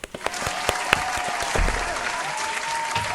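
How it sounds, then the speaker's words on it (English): Audience applause during a live talk show episode, a lively burst of clapping with a few sharp individual claps at the start, then a dense, sustained patter at moderate distance. "round of applause"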